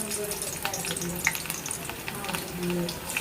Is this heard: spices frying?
yes